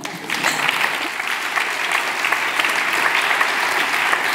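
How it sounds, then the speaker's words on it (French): Audience at a Swiss science-communication final claps in sustained, dense applause that holds steady throughout without a break. "on peut les applaudir."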